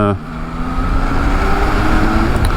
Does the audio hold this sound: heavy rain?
no